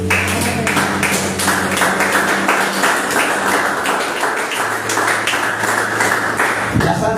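Rhythmic clapping from a church congregation during a Spanish-language service, steady and fairly loud throughout, with voices and music-like tones running underneath.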